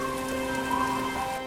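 Steady rain falls during a storm by a river near a forest, a constant even hiss with no voices, loud and close throughout.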